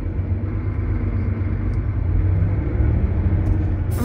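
Steady low engine rumble and road drone inside a large bus travelling overnight toward Lviv, constant and close with no talk.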